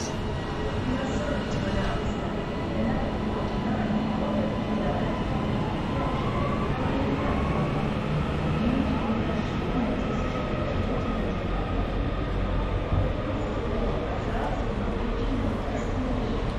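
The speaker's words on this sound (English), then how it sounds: "This is the Manchester Airport train, not the Staley Bridge." The Manchester Airport train at Bolton station runs as a steady, continuous rumble of rolling stock and engine, close and fairly loud throughout, while a voice talks faintly beneath.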